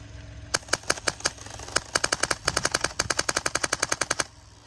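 A paintball marker firing airsoft BBs outdoors lets off a quick string of sharp, snappy shots, first spaced and then in rapid bursts, close and crisp over a quiet background with no talking.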